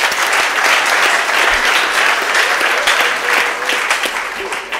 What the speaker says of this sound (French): On peut acclamer pour elle.